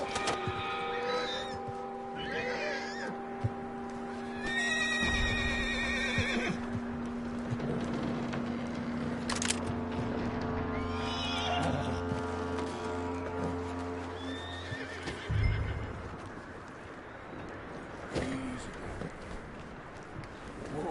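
In Red Dead Redemption 2, a horse whinnies and snorts amid steady hoof clip-clops, with birds chirping in an outdoor setting and a voice speaking in between.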